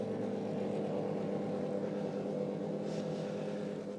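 GT race cars rolling out onto the circuit at Virginia International Raceway for qualifying, a steady, loud, continuous engine drone with layered low rumble and no pauses throughout.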